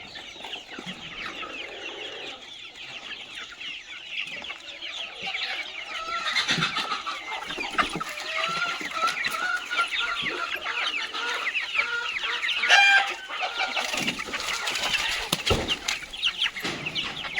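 Many chickens and young chicks cluck and chirp together in a farm shed, with roosters and egg-sitting hens among them, a dense steady chorus throughout and occasional wing flaps and louder squawks.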